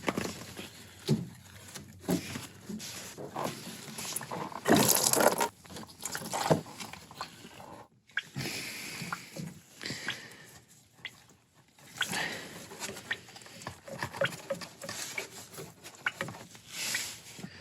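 A rubber coolant hose is pried and worked loose from an aluminium fitting on a VW Mk1/Mk2 engine, giving close, uneven bursts of rubbing, scraping and creaking with short pauses and no talking.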